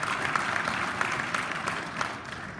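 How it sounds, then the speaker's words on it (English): A town hall crowd gives a sustained round of dense applause, loud and steady throughout, with no talking over it. "Another round of applause for everybody that is here."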